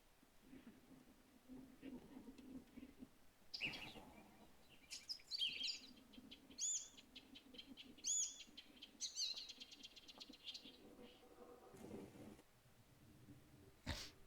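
A songbird in The Witcher 3 video game sings bright chirping phrases in repeated bursts through the middle, with quiet voices murmuring underneath before and after.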